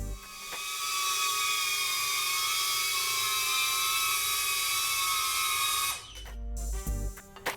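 A GEPRC Cinebot25 V2, a 2.5-inch cinewhoop drone, flies with a loud, steady high-pitched propeller whine that holds for about six seconds, then cuts off abruptly and ends with a few faint clunks.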